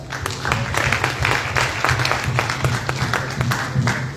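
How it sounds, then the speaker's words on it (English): Sustained applause from an audience at a judicial candidate forum in Cleveland, a dense patter of many hands clapping at steady loudness throughout, with a low hum underneath. "So clap it up for yourselves."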